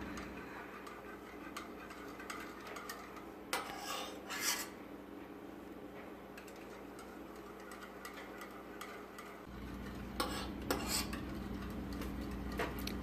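Warm goat milk is stirred a little at a time into eggs in a bowl for homemade ice cream, with soft rubbing swishes and bursts of light metallic clinks and scrapes of a utensil against the bowl, close and quiet.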